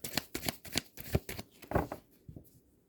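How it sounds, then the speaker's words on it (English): Tarot cards shuffled by hand in a quick series of close, crisp riffling bursts, each lasting a fraction of a second, fading toward the end with no talking. "let's pull one more card"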